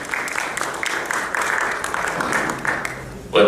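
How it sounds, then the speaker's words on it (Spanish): An audience claps for a lecture on the economics of taxes, a strong burst of applause that swells and ebbs, then cuts off as a voice begins to speak. "Por favor, recibámonos con un fuerte aplauso."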